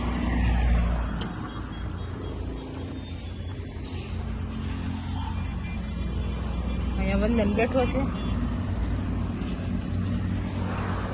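Road traffic rumbles past on a town street at a roadside tea and soda stall, a steady near engine drone with vehicles going by, under continuous talk.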